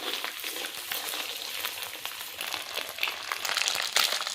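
An egg fries in a pan, seasoned with a little salt and turmeric, giving a steady, close, crackling sizzle that holds throughout with no voices.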